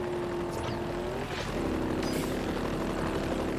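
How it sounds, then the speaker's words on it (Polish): A helicopter flies in the Forza Horizon racing game on Xbox 360, a steady droning engine tone holding throughout, shifting pitch slightly midway, with no talk over it. "Przecież on jest nienormalny, ten helikopter"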